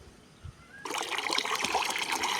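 Water poured and stirred in a container to mix spoiled nuts into a rose plant feed, a sudden trickling, splashing rush that starts after a quiet moment and continues close and steady.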